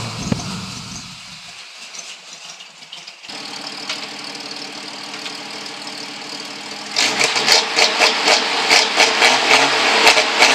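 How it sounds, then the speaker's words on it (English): A 1975 Plymouth Duster's engine runs rough in a driveway, starting as a low hum, then jumping to a steadier running drone, and finally growing louder with a rapid, uneven pulsing. "I think I'll leave it out in the driveway running for a bit and see if it straightens out."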